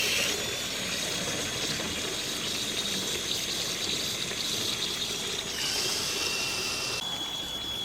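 Water running steadily from an outdoor spigot on a homestead, a continuous hissing, splashing flow that holds at a fairly even level throughout, with slight shifts in tone partway through.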